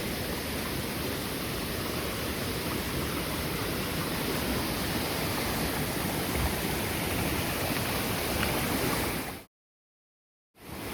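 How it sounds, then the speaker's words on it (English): Small waterfall or stream beside a Camino de Santiago walking trail between Pamplona and Cirauqui, a steady loud broadband rush of water running unbroken for about nine seconds before cutting out briefly. "I'm not sure if this is supposed to be a waterfall"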